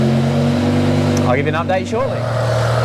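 BMW E60 M5 engine idling steadily while warming up, a close, even low hum with a person talking over it partway through.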